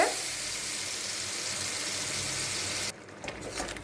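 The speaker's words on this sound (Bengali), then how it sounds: "এটাকে আমি আরেকটু ভালো করে ভেজে নেব" Ground paste for pineapple chutney sizzles in a hot pan with a steady, dense hiss that cuts off abruptly, leaving faint clicks and a low murmur.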